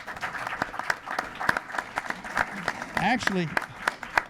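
Audience applause at a community education forum on Nashua's Safe Stations program, a steady wash of many hands clapping close by, with a person speaking briefly over it.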